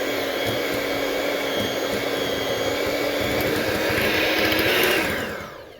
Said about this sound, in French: Vous allez mixer tout ça un petit moment.